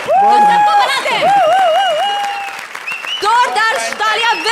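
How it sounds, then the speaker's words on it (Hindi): A studio audience at a comedy show claps and cheers for performers Vipul and Nisha, loud applause running under a prominent, warbling voice that dominates the foreground. "जोरदार तालियां विपुल निशा के लिए"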